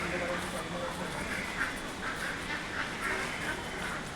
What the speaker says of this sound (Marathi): बदक आहेत, बदक बदक.